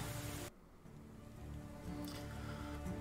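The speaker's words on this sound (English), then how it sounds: "it's the next day and it's raining" Rain falling in the video game Medieval Dynasty, a soft, steady hiss of light rainfall that continues evenly after a brief louder sound at the start, faint and without speech.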